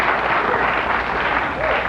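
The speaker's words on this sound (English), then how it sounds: "somebody hit an applause sign there?" Studio audience applause at a late-night talk show, a dense, steady wash of clapping close and loud throughout, with a brief voice near the end.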